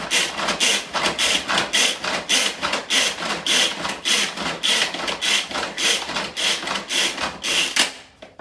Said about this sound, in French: Donc là, on vient mixer le fromage assez finement.